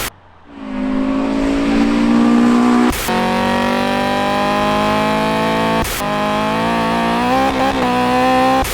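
A Honda CRX VTEC engine in GTA 5 revs hard and loud, holding a high screaming pitch with two brief breaks for gear shifts before climbing again, close up and without talk.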